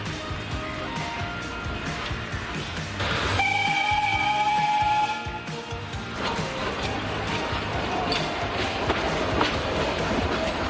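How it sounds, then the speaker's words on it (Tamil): A special Nilgiri mountain train to Ooty rumbles along steadily with rolling rail noise, and a horn sounds clearly for a couple of seconds partway through. "தற்போது சிறப்பு மலை ரயில் சேவை தொடங்கப்பட்டுள்ளது."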